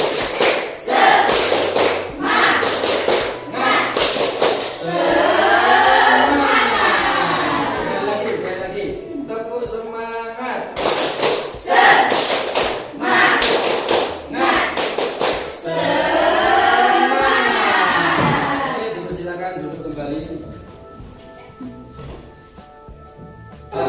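Classroom group standing for 'tepuk semangat', an ice-breaking routine of loud rhythmic hand clapping in bursts, interleaved with voices chanting together, repeated in two rounds before trailing off.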